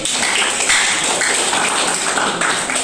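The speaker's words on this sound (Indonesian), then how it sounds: "Kasih aplaus dulu." A classroom audience claps steadily, a dense wash of applause continuing for a few seconds without pause.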